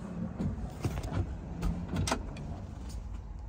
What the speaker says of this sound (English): Blower motor comes on. You can feel it, so the heat works.